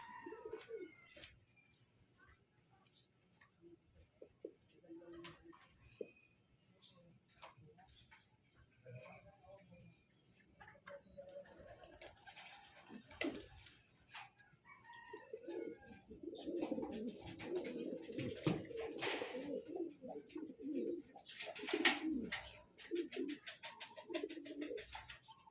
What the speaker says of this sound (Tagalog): Bali pang apat nating ibon yan mga boss na umuwi sa atin.